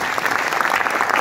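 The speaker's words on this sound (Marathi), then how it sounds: "यांच्यासाठी एकदा जोरदार टाळ्या" A burst of applause from an audience at a business-plan seminar, dense and fairly loud clapping that fills the whole moment without letup.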